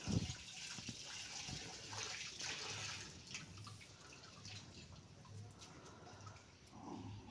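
Hilsa fish being washed by hand in water, steady splashing and sloshing with soft drips and gushes, close and fairly quiet, no talking.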